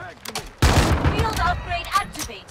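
Video game gunfire with armor-piercing rounds sounds as a sudden loud burst of rapid shots. A rattling fusillade follows with echoing tails, and in-game voices and effects are heard faintly underneath.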